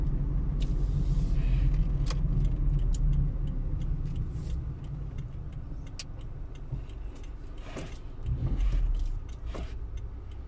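A car driving through the streets of Oświęcim, Poland, pulling out by a bus loop; steady close engine and road rumble throughout, with brief clicks and a swell of passing traffic near the end.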